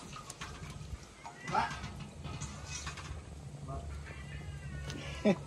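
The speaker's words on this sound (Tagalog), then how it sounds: "Pusa niya siyang ginugulo." A cat meows a few times at moderate distance over steady background noise and faint voices, with a sharper cry near the end.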